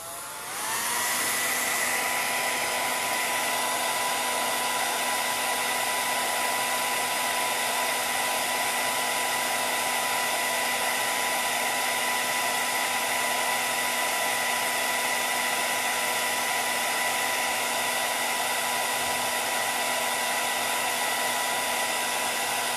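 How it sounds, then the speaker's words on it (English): A hair dryer blows steadily on a painted canvas, a loud continuous whirring hum that starts up and holds unchanged throughout, with no voices. "I'm gonna blow dry that just a little bit."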